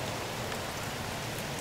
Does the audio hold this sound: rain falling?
yes